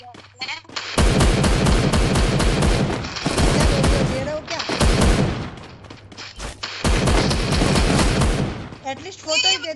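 Shotgun fire in a Free Fire match comes as loud, dense bursts of close gunshots in several long volleys separated by short lulls, with faint game sounds in between.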